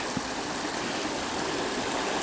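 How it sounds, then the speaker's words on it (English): A small waterfall on Tischer Creek in Congdon Park, Duluth, Minnesota, pours with a constant, even rush of splashing water, close and fairly loud. "There's the little smaller waterfall than I thought it was going to be."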